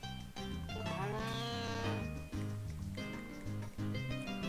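A cow moos in the Harvest Moon: A Wonderful Life video game, giving several drawn-out, tonal calls over a steady game music loop, fairly close and clear.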